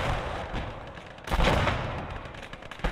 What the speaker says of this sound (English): it's really hard to aim these rockets though